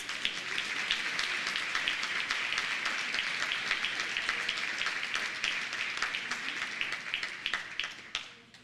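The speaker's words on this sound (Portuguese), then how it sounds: "Você pode aplaudir Jesus?" Sustained applause from a church congregation, a dense steady clatter of many hands clapping that carries on for several seconds before tapering off.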